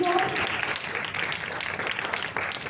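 Audience applause welcoming a guest at an event in Cali, a dense, continuous wash of clapping that holds steady throughout, with a brief voice at the very start.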